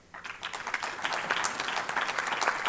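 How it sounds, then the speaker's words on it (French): Audience applause at a pediatric congress honouring a professor, a broad steady wash of many hands clapping that starts abruptly and holds at an even level throughout. "je vous demande de les applaudir"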